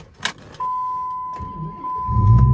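2005 Dodge Ram SRT-10 Hennessey Venom 650R pickup with manual transmission: keys jingle, a steady dashboard chime sounds, then the big engine cranks and catches with a rising low rumble near the end.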